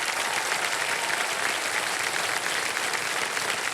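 Steady, loud studio audience applause for a KBC quiz show contestant, dense clapping filling the whole stretch without interruption or speech.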